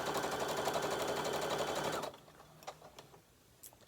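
A sewing machine runs a straight stitch while making a fabric book sleeve, a fast, close, steady whirring rattle for about two seconds before it stops, followed by a few faint clicks and handling sounds.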